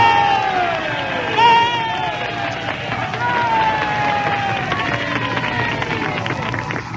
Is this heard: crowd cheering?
yes